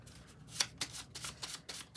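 A deck of oracle cards being shuffled by hand, with quick riffling bursts of card flutter repeating in an uneven rhythm, close and fairly soft, with no talking.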